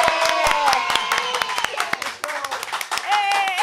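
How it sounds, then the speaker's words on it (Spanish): A studio audience applauds for a guest actress on a talk show, a dense, loud stretch of clapping with sharp individual claps standing out, while voices talk over it throughout. "por favor, aplaudan fuerte, fuertísimo"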